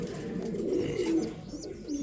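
Racing homing pigeons coo in a loft, soft low throaty calls repeating close by with no one talking.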